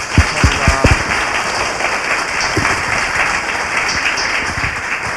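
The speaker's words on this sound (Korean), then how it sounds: "박수 부탁드립니다." An audience on a Korean talk-show broadcast breaks into applause, with a few sharp close claps at first that settle into a dense, even round of clapping lasting several seconds, no speech over it.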